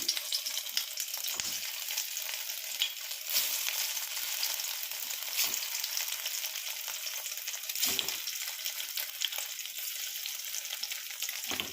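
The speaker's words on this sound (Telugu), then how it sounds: "వీటిని ఆయిల్లో ఫ్రై చేసుకున్నాం" Egg pieces fry in hot oil for an egg curry, giving a constant crackling sizzle with a few sharper pops and occasional stirring scrapes, close and even throughout.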